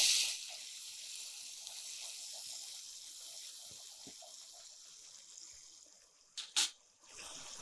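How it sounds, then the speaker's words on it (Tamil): Water pours steadily into a pan of kulambu for kulambu idli, a continuous bright hiss and gush that runs for several seconds, then swells in a couple of short louder splashes near the end. "இதில் இப்போ தேவையான அளவுக்கு தண்ணி."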